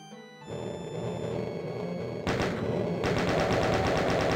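Chaingun firing in the classic shooter Doom, a dense, loud stream of rapid shots that starts abruptly and grows fuller partway through, heard alone.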